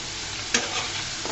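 Shrimp frying in oil in a pan, being stirred, for kalmi greens: a steady broadband sizzle with a brief sharp clatter of stirring partway through, close and fairly loud, no voices.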